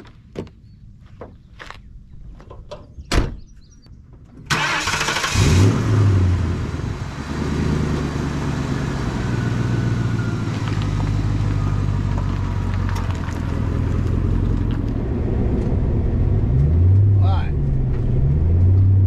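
A 2003-04 Mercury Marauder, a full-frame V8 muscle sedan, gives a few clicks and thumps and then starts with a loud rumbling roar. The engine keeps idling and pulling away with deep, close, sustained throbbing and rising revs.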